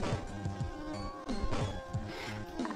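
Buzzing bee boss in a stickman prison escape video game, a rapid insect-like drone mixed with busy game music and effects, continuous and fairly loud.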